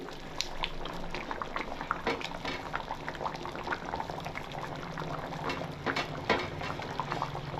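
Fish curry (chepala pulusu) simmers in a pot with a dense, continuous bubbling and popping, close and steady throughout with no speech.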